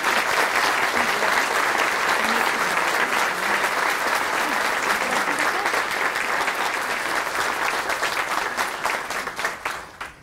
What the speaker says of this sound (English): Please clap for all of these incredible.